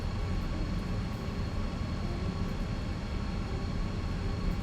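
Steady, droning aircraft engine hum during taxiing in a flight simulator, a constant low rumble with a faint whine and no breaks, heard on its own.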